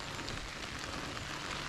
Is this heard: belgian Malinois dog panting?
no